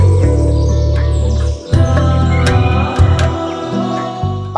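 Birds call in a hill forest on a mountain trail, with bright chirps and short tweets rising over a steady low drone of nearby background noise.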